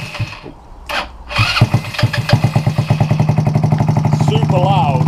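A GY6 scooter engine cranks and starts up nearby, then settles into a fast, steady putter at idle, loud and close.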